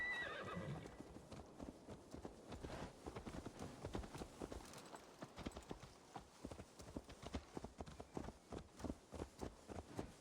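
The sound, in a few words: horse hooves and whinny, video game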